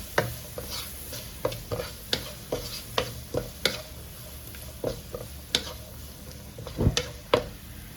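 Onions frying for a roasted-coconut Kerala chicken curry are stirred in a pan, giving a steady sizzle broken by repeated scraping strokes and light clinks of the spoon against the pan, close and fairly quiet, with no talk.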